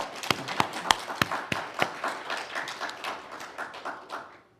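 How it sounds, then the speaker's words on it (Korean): Church congregation applauding the choir: scattered sharp claps at first that thicken into a steady wash of applause, then fade out. "크게 한번 박수 치겠습니다."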